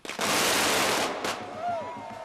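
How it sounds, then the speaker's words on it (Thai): Black powder sealed in a bamboo tube explodes in a sudden loud burst that roars for about a second, followed by a second sharp crack and a fading rumble, with a voice speaking over the end. "และปิดไว้ในปล้องไม้ไผ่ มันก็จะระเบิด"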